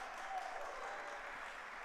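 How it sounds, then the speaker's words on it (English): Applause from the audience at the opening of an annual athletic awards ceremony, a short steady patter of clapping heard fairly quietly and evenly throughout. "Yeah, you can clap for that."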